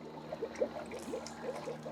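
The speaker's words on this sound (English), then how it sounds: "And you got good pressure because you went pretty deep in there and it's still bubbling really good." A water-driven aquarium air pump bubbles air through water, giving a continuous gurgling trickle with small bursting pops, faint and close.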